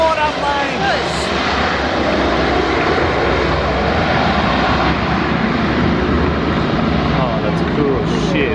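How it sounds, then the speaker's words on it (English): A water-bombing seaplane fighting a bushfire on the island of Vis, Croatia, drones steadily overhead with a loud, sustained engine roar as it flies past. "Water plane! It's a water plane!"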